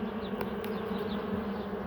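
Honey bees buzz inside a hive, a close, steady drone that fills the short stretch evenly at moderate loudness, with no voices over it.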